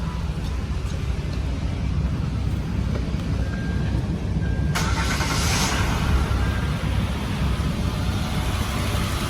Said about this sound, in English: fire the car up